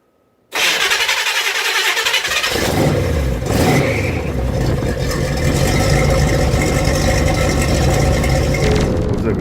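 A 1982 Chevrolet K5 Blazer engine with a new exhaust cranks and fires after a moment of silence. It then settles into a loud, steady, throaty idle close by.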